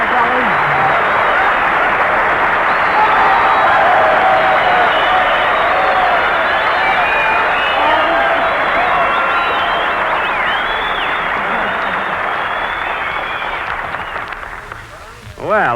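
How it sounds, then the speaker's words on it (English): A studio audience bursts into long, loud applause and cheering for actress Virginia Bruce, a thick roar of clapping crowd with voices mixed in, holding steady before dropping off near the end. "Virginia, you got more applause than I did."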